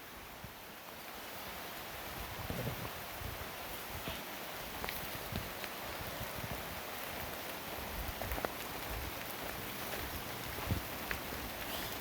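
Rain falls steadily on trees beside a river at Hamma Hamma, making a dense, even hiss with scattered heavier drips and patters. Nobody speaks.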